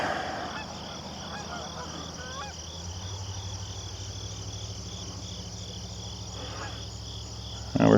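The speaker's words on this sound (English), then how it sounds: "A bunch of geese. I guess they're flying south." A flock of geese flying over, honking in scattered calls at a distance above a constant drone of crickets, with a brief louder knock near the end and no talk.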